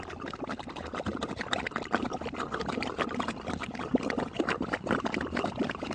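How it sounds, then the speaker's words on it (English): Desert mud pot bubbling steadily, a dense close stream of thick wet pops and gurgles with an even level throughout, no voices. "the mud is actually bubbling up out of there"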